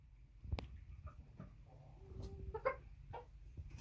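An American Bresse cockerel, 12 to 14 weeks old, gives a few short, soft clucks and one brief tonal call. Other low farm noise sits under it, and no one speaks.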